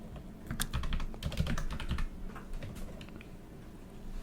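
A field name is typed on a computer keyboard in close, quick bursts of key clicks that fade toward the end, with no voices.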